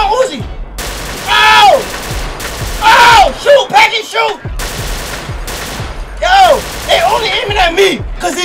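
Bursts of automatic gunfire crackle through a Grand Theft Auto IV shootout, loud rattling volleys coming in waves while someone shouts and yells excitedly over them.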